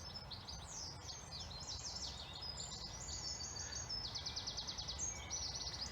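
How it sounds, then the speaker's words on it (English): Many birds, goldfinches among them, sing and chirp outdoors in spring: bright overlapping trills and tweets, fairly close, repeating over a soft steady background with no talk. "You can hear lots of birds singing."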